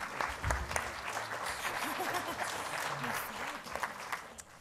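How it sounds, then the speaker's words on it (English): Audience applause for the panelists at a medical symposium panel on symptom management, a steady, dense patter of many hands clapping that holds through the whole stretch at fairly close range. "Let's give a round of applause to our panelists."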